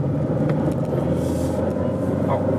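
A 2003 Renault Mégane Scénic pulls away in first gear, heard from inside the cabin as a steady, loud low engine and road rumble that holds without a break.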